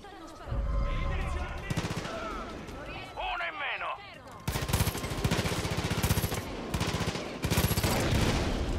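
Rapid bursts of gunfire in the video game Far Cry 5, loud and dense after a quieter stretch of voices and ambience, with repeated volleys of shots in the second half.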